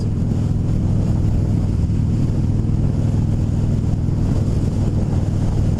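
A 2016 Harley-Davidson Dyna Low Rider FXDL motorcycle runs with a loud, steady low engine rumble and road and wind roar throughout. No one speaks.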